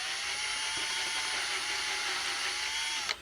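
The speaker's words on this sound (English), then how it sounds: "now I'll drill this guy here and I'll get like a little pilot" A power drill boring a small pilot hole into a cigar box for a homemade guitar, a steady high whine held loud and close for about three seconds before cutting off abruptly.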